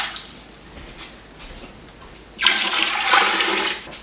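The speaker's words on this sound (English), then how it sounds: "So I'm adding my water to my canner." Water pours into a canner in a rushing splash that starts suddenly partway through after a quieter stretch of faint trickling and clatter, then stays loud and steady until it tapers near the end.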